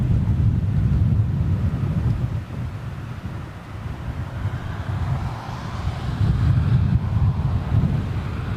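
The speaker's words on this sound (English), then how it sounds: "Sort of kind of blustery in a funny sort of way. Turning into a bit of a crosswind." Gusty, blustery crosswind buffeting the microphone at an outdoor spot near an airport, a loud low rumble that swells and eases in gusts throughout with no voices.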